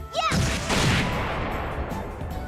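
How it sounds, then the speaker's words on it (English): Explosion attack in the video game Trails in the Sky the 3rd: a sharp whooshing hit leads into a loud, sustained blast and rumble that slowly fades. "at least this is the first explosion we didn't get hit by"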